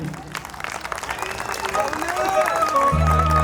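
A crowd claps steadily under a singing or calling voice at a live shayari show at Rayat Bahra University, the applause swelling toward the end.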